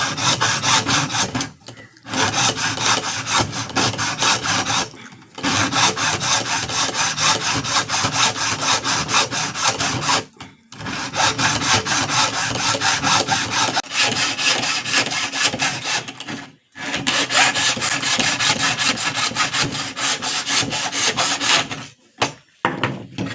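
A coconut shell is cut by hand with a small saw to make a cup handle, giving loud, close rasping strokes in a fast steady rhythm, broken by a few brief pauses.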